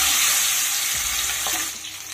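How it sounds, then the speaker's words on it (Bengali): Pabda fish sizzle and fry in hot oil, two pieces at a time, with a steady, bright crackle that dips briefly near the start and slowly fades toward the end. "আমি দুটো দুটো করে মাছ ভাজবো"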